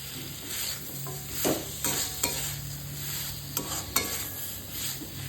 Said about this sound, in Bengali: এবার আলুগুলো দিয়ে দেবো। আলুগুলো দিয়ে আমি একটু কষিয়ে নেব।